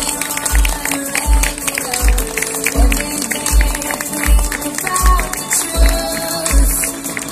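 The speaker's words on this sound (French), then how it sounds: "Je vous demande de les applaudir très fort." A crowd applauds and cheers at a fashion show of Miss Pays de Creuse 2019 at a trade fair, clapping steady and loud while a heavy, regular bass beat pulses through the space.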